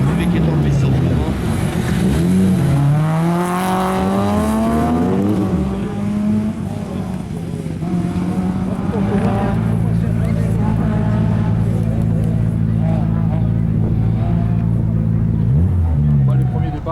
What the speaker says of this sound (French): Henri Jacquot, celui qui est en piste en ce moment.